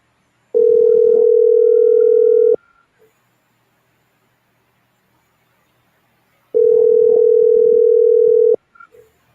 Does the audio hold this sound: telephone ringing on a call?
yes